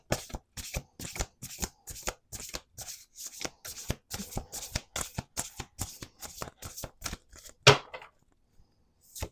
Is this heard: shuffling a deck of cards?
yes